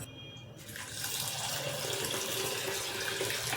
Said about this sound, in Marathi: आता मी या साबुदाण्याला स्वच्छ धुवून घेणार आहे 2 ते 3 वेळा।